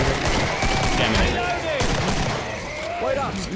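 Gunfire in the video game Killing Floor rattles in rapid bursts, loud and dense, with players talking over the shots.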